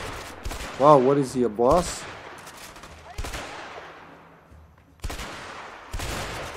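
Gunshots in the co-op video game A Way Out, several sharp loud bangs spaced a couple of seconds apart, each with a decaying tail, while a person talks briefly near the start.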